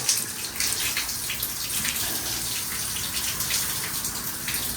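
Cold spring water runs constantly, a steady broadband gushing and splashing that stays even throughout, fairly close and alone with no talking.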